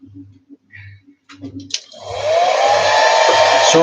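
Heat gun or hair dryer warming a model aircraft carburettor, a few low thumps and clicks before it switches on into a loud, steady close blowing whoosh with a rising whine.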